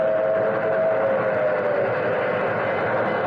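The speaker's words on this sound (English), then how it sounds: "There's a train coming. It's an old steam train." An old steam train rumbles continuously at close range, a dense low roar of rolling wheels and machinery with a faint tonal whine held throughout, loud and steady with no voices.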